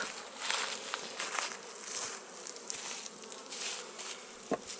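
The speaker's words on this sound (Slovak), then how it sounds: "začneme kontrolou tohto včelstva" Honeybee colony humming steadily through a spring hive inspection, a dense continuous buzz with individual bees flying close past, plus a few faint handling knocks.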